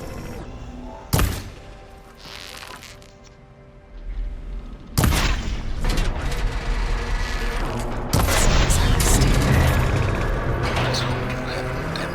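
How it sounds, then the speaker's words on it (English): Heavy gunfire booms and impacts as the cable coupling on a machine's arm is shot in Horizon Forbidden West, loud sharp blasts at intervals over game ambience and rumble. "Maybe I can shoot the coupling on the arm?"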